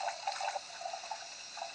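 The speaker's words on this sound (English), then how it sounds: "Pour off whatever's left in a dirty glass" Leftover liquid pours out of a dirty glass away from the sinks, a close gurgling trickle with small splashes running steadily.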